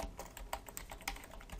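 Typing an npm command on a computer keyboard: a quick, steady run of soft, close key clicks, evenly paced and alone.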